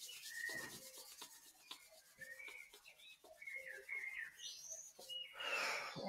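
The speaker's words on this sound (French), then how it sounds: "On frotte encore les mains." Palms rub together in soft, repeated brushing strokes during a quiet morning relaxation exercise, close and gentle, while birds chirp faintly in the background and no one speaks.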